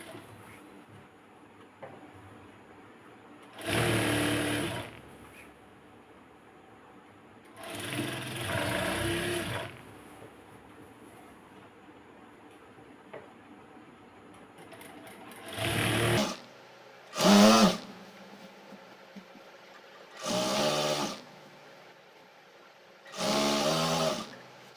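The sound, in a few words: sewing machine stitching palazzo pants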